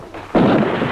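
A single sudden, loud blast of gunfire cuts in after a short lull during a siege scene in a film, then rumbles on briefly.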